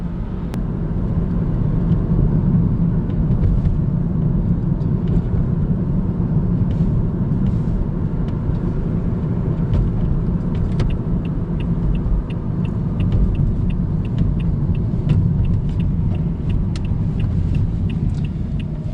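A Toyota Prius V drives along the road on a fuel-economy test drive, heard from inside as a constant loud rumble of road and tyre noise, with faint ticks and rattles scattered over the steady drone.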